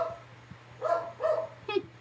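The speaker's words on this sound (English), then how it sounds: "And Aurora's barking." A dog barking nearby in a crafting room, three distinct barks following one another over a faint steady hum, with no voices.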